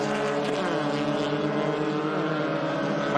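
A tight pack of race cars on the opening lap at Queensland Raceway makes a loud, unbroken engine drone with layered, wavering tones that holds steady throughout.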